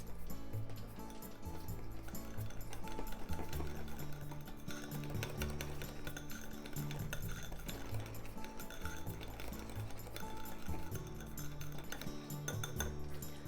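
A spoon stirs a sauce seasoned with shichimi Japanese chili mix, making continuous scraping and clinking against the bowl with a wet swishing underneath, faint and steady throughout.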